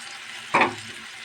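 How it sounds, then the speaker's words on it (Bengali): Fried fish dropped into a hot pan for a fish chorchori, giving a short burst of sizzle that quickly settles into a quieter crackle over faint background hiss. "তারপর আমি ভেজে রাখা মাছগুলো এখানে দিয়ে দেবো"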